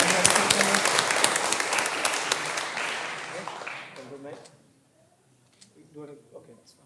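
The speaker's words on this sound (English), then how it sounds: "Let's give him a clap, guys." Applause from an audience for a student at a school awards celebration, a dense burst of clapping for about four seconds that fades out, followed by a brief stretch of quiet speech.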